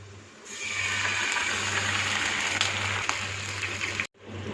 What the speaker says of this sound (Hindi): जैसे ये लाइट गोल्डन कलर का हो, इसमें 1/4 कप पानी डाल देंगे।